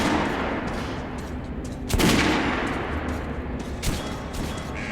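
Gunfire on a shooting range in Metro Last Light, a sustained rumbling barrage with a few sharper, louder shots standing out near the middle and later, no talking.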